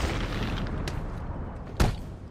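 Bomb explosions in the Batman: Arkham City video game: one sharp, loud blast near the end follows a fainter thump, set over a low rumbling game backdrop.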